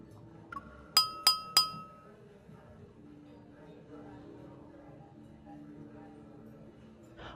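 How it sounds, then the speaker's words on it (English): Three crisp glass clinks in quick succession at a banquet aboard a ship in the video game Love & DeepSpace, ringing bright over a low murmur of ambient game music. "the crisp sound of clinking glasses captures everyone's attention"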